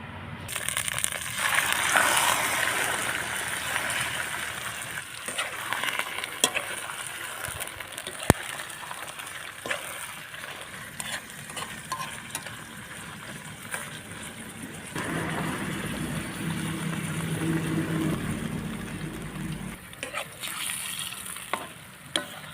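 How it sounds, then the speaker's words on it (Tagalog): Food frying in a pan until golden brown while being stirred, a continuous close sizzle with scraping and occasional clicks of the utensil, fairly loud and steady, no talking. "Halu-haluin lang natin mga kasipag hanggang sa maging golden brown siya."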